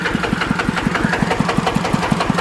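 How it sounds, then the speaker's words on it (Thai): Engine of a homemade Thai iTaen farm vehicle with an electric starter runs close up, a loud steady chugging with an even, rapid knocking pulse. "ตัวนี้สตาร์ทไฟฟ้าเลยนะครับนี่ มีไดสตาร์ทมาด้วยนะครับ"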